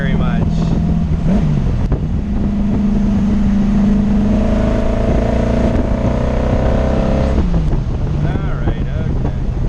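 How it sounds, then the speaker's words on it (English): A Sunbeam Tiger with a swapped 289 Ford V8 drives with the engine droning steadily as revs climb and fall through the gears, heavy wind rushing past the microphone and a voice talking over it. "I am gonna enjoy this motor in this car"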